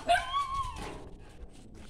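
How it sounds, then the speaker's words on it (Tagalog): A dog whimpers in a short, high, whiny cry at moderate distance, fading into quiet outdoor background. "May aso dito."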